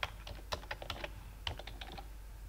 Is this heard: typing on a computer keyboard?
yes